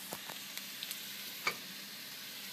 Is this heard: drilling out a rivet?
no